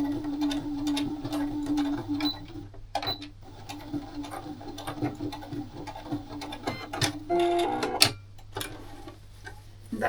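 Sewing machine stitching scrap fabric and a zipper for a pouch, with bursts of rapid mechanical ticking and whirring broken by short pauses, close and moderately loud.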